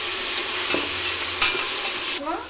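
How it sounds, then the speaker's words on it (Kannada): Masala rice frying in a pot is stirred with a spoon, giving a steady close sizzle with a few scraping strokes and no voices. "ಇದು ಚೆನ್ನಾಗಿ ಮಿಕ್ಸ್ ಮಾಡ್ಕೊಳ್ಳೋಣ, ಇಲ್ಲಾಂದ್ರೆ ಕೆಳಗಡೆ ಹೊತ್ಕೊಳ್ಳುತ್ತೆ."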